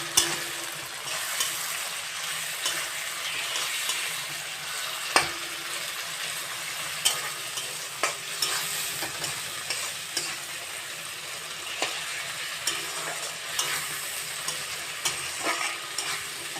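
Tomatoes frying lightly in a pan for a spicy mourala fish dish, a constant bright sizzle broken by frequent sharp scrapes and knocks of a spatula stirring.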